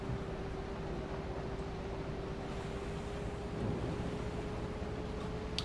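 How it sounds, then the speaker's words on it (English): A city bus in Bus Simulator 21, running as a small beach shuttle in rainy weather, drones steadily at high revs, a constant engine hum with a rushing wash behind it and no voices. "the bus is revving quite a lot"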